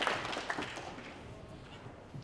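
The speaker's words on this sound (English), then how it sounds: "a smattering of applause" A smattering of applause from spectators at the 2002 World Pool Championship, scattered claps sharpest at the start, then fading into faint room noise before a last few claps near the end.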